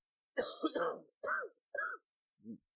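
A close, forceful throat clearing followed by a few short coughs, ending with a softer final one.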